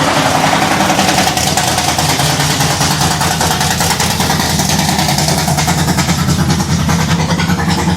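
A 503 cubic inch big block Ford gasser engine runs loud and steady right after firing up, a dense, rough idle with a choppy low rumble that holds close and constant throughout.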